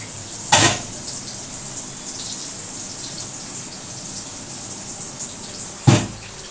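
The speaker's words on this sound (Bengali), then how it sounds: "একটু মিক্সিটা ধুয়ে সামান্য একটু জল আমি এর মধ্যে দেবো" Water swirled from a rinsed mixer jar into a pan of ground onion and sesame paste for doi chicken, over a steady, close frying sizzle broken by two brief splashy bursts near the start and end, with no talking.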